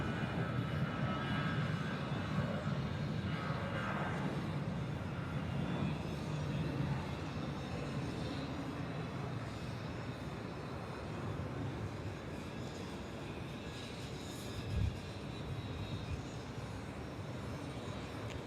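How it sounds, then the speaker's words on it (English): A Thai Vietjet airliner takes off at Bangkok Suvarnabhumi Airport, its jet engines a loud, steady broadband roar that holds for the whole stretch. A brief thump rises near the end. "Here we go, Thai Vietjet off to Taipei."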